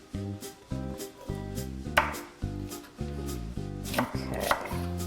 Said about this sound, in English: just cut it in half and slice them like this